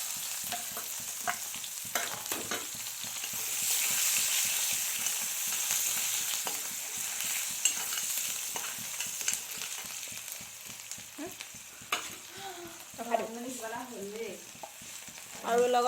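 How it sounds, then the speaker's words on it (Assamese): Sliced onions and dried red chillies fry in hot oil with five-spice seeds, hissing steadily as a spoon stirs and scrapes the pan in quick repeated strokes, close and alone. "শুকান জলকীয়া আৰু লগতে কাটি থোৱা পিঁয়াজখিনি দি দিছোঁ।"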